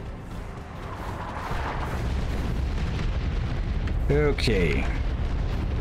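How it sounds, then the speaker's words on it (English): Artillery strike explosions in Warhammer 40K: Dawn of War 2 Chaos Rising, a dense, continuous rumbling roar of blasts that swells and holds, with a brief spoken word near the end. "Incoming artillery strike."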